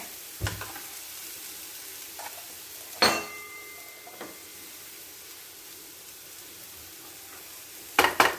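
Cooked clams stir-frying in a pan for a Kerala clam thoran, with a low steady sizzle broken by a few sharp clanks and scrapes of a utensil against the pan.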